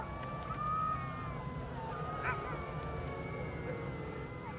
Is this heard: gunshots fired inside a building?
no